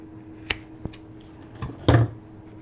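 Scissors snipping through a hardened glue strip on a mounted rubber stamp, giving a few short, close clicks followed by a louder, slightly longer crunching cut.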